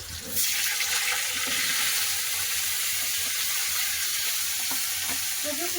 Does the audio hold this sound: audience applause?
no